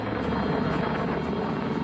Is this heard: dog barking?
no